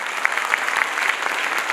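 Steady applause from an audience at a school's annual function, honoring the management: dense, continuous clapping at moderate loudness with no voices over it.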